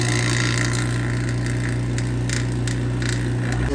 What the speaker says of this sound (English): We're going to slowly start to create a vacuum in here.